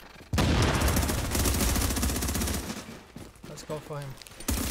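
Dense bursts of rapid automatic gunfire crackle loudly and continuously in a The Division last stand PvP match, thinning out toward the end as a player's voice comes in over the sporadic shots.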